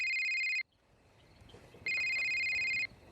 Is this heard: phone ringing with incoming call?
yes